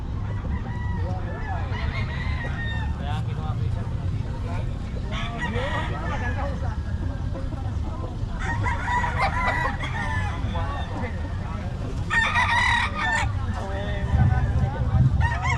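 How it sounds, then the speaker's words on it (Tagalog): Chickens at a poultry market in Bocaue, a dense flock clucking continuously with several roosters crowing in bursts, loud and close, while people talk and haggle over prices among the birds. "Binababa ko ng presyo at napakaraming manok. Ang daming manok na."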